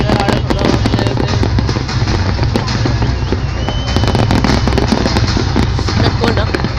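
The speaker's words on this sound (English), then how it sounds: "You get the fireworks." Fireworks exploding at a Qatar National Day celebration, a loud continuous barrage of crackling bursts and booms with dense rapid pops throughout, close and sustained, with faint crowd voices underneath.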